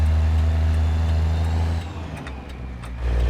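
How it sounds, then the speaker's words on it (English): A Caterpillar 3176A diesel truck engine idles with a deep, steady rumble close by, then dips briefly before the low throb swells back up. "This CAT 3176A sounds so good, man."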